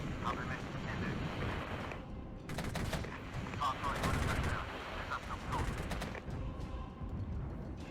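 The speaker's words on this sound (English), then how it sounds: "counter-battery fire is coming in on our M113s" Counter-battery artillery fire lands on M113 carriers in the Cold War strategy game Regiments, a faint, continuous rumble broken by dense crackling blasts, with a voice talking over it.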